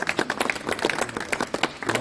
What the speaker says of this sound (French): Peut-être qu'on peut les applaudir.